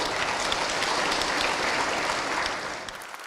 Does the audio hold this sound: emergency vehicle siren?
no